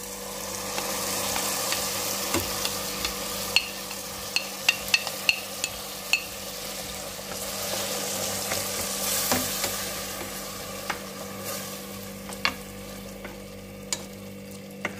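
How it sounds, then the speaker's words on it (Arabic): Tomatoes fry with onion in a pan, sizzling softly and continuously as a utensil stirs, with sharp clicks and taps against the pan scattered throughout at close range. "ها هي الطوماطيش تقلات مع البصل"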